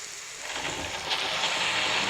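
Rain falls steadily outdoors, a broad hissing wash that swells after the first half second and stays loud and even, heard alone without voices.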